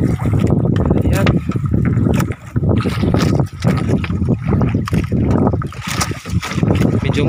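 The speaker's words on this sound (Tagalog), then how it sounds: "Medyo malaki ang alon." Big sea waves slapping around a small fishing boat at night while catching black scabbard fish, loud churning water and wind buffeting close to the microphone, with someone talking over it.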